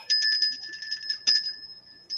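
A small bell rings for two inches of sand capping a planted aquarium tank, bright repeated metallic dings with a sustained shimmering tone, struck again after a pause.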